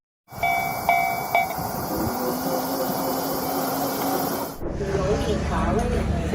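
A train rumbles past along tracks running through a crowded market, loud and close with a brief horn near the start, then a sudden drop as it clears and the rumble continues more distantly.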